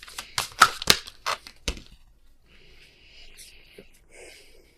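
A deck of tarot cards is shuffled close up in quick, crisp clicking riffles for about two seconds, followed by quieter soft card handling while someone speaks.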